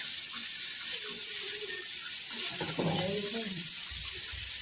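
Water being poured in while chow mein cooks, a steady close rush like a running tap, with a faint voice partly audible beneath it.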